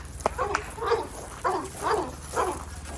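A dog barks at sheep on a farm several times in short, evenly spaced bursts, fairly close, over a low steady hum with faint background noise.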